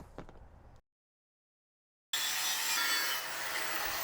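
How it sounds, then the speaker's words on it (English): A jigsaw cuts pieces for a homemade action camera mount, giving a brief rough buzz, a clean gap of silence, then a steady, close, harsh cutting rasp that eases slightly toward the end. "Usually I cut stuff out with the angle grinder, but I found using a jigsaw is super nice."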